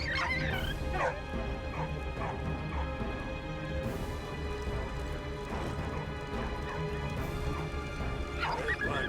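A dog in the Valiant Hearts video game barks and yips in a series of sharp calls spread over several seconds, with crashing impacts and a musical score underneath.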